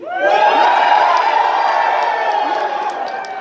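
Loud convention-panel audience at Calgary Expo 2021 erupting in sustained cheering, shouts and whoops from a large crowd, swelling quickly and holding before easing slightly.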